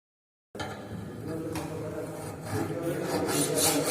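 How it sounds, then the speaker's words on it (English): A rough file rasps steadily across a metal workpiece in a fitting shop, a continuous close scraping that starts abruptly and grows slightly louder toward the end. "so first we use rough file, okay, to remove excess material."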